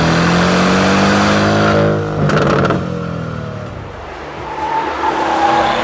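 A 2016 Porsche 718 Boxster with PDK gearbox and flat-four engine drives past loudly, its engine note rising then dropping with a gear change, followed by a quieter steady hum as it moves on.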